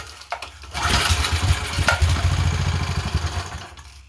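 A small engine on a 1993 MTD lawn edger being pull-started with choke set, a rough burst of chugging that catches and runs unevenly for a few seconds, close and fairly loud.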